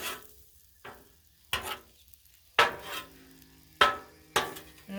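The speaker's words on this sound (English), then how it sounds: "I'm going to stir it a little more" Metal spatula scraping shrimp fried rice with scrambled eggs across a hot Blackstone griddle, five sharp close strikes spaced about a second apart over a soft steady sizzle.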